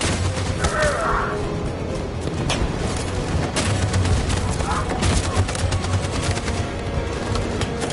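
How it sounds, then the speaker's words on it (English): Dense, continuous automatic gunfire from a machine gun in the Detroit: Become Human android uprising battle, steady and loud throughout with shouting voices underneath. "That machine gun is taking down everything that moves!"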